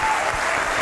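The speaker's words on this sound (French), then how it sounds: "Nous allons applaudir simultanément pour le club de jeunes consciencieux de Mombele" An audience applauds at a 1999 Congolese music television show, brief steady clapping lasting under a second.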